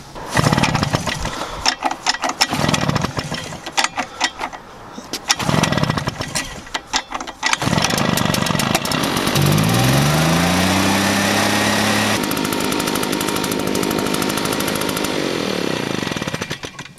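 Husqvarna BT150 backpack leaf blower two-stroke engine, close and loud: several sharp pull-start attempts, then the engine catches, revs up and settles into a steady, droning run.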